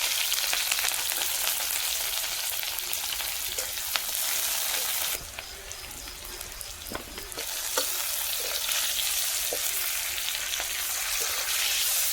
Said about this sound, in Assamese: মই এতিয়া পিঁয়াজখিনি এনেকৈ ৰঙাকৈ ভাজি ল'ম